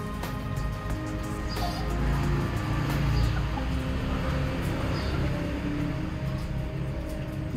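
Young Tân Châu bantam chickens, an ornamental breed, cluck repeatedly at close range over a constant hum of background noise.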